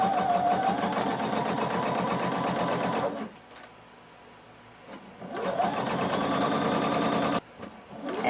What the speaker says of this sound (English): we're going to sew until we get to our dot